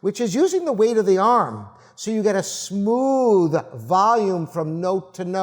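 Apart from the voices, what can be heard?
No everyday noise stands out behind the speech.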